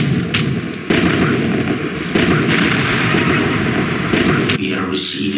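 Artillery fire booms under a dense orchestral rock track from a War of the Worlds musical setting, with heavy low rumble and repeated bursts continuing throughout, mixed beneath voices.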